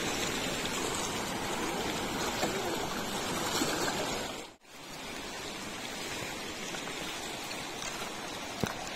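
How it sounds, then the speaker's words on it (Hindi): Water rushes in a continuous broadband hiss from the Saryu River flowing nearby, steady throughout apart from a brief dip in the middle. "और यहाँ पर है नदी।"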